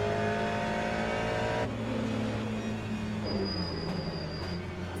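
Race car engines in the Le Mans Ultimate racing game, including a Peugeot 9X8 prototype, hold a steady loud drone with a shifting pitch, a tone change partway through and a high whine later on, with no talk.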